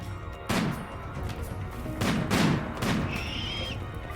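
Sniper rifles fire in the video game RimWorld, with several sharp, echoing shots spaced a second or so apart over a low background rumble, followed by a brief high tone.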